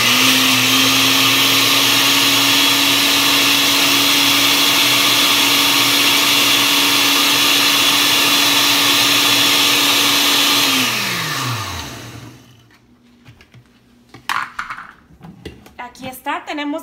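A kitchen blender grinds pineapple, kiwi and water for agua fresca, whirring loudly and steadily for about eleven seconds before winding down to a stop, followed by faint handling noises.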